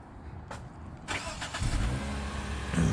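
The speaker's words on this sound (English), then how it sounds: "So now I'm gonna go ahead and remote start it." A Nissan Sentra or Versa starts by remote start kit: a couple of clicks and a short crank, then the engine catches and settles into a steady idle, close and clear.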